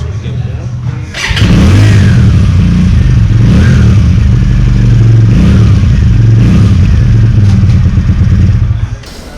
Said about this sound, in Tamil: நான் உங்களுக்கு எக்ஸாஸ்ட் நோட் காட்டுறேன்.